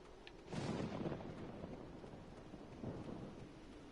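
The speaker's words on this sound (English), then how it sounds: "all the thunder and lightning, but I don't see rain." Thunder rumbles through a storm in the game Final Fantasy XIV, a broad low roll that swells loudly after a quiet start, then settles into a steady rain-like hiss with a second swell near the end.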